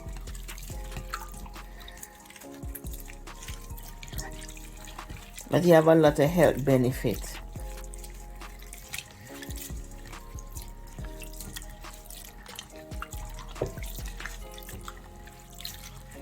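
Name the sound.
washing sea moss in water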